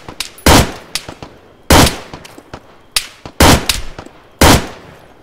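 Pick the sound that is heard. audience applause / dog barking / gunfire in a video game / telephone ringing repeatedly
gunfire in a video game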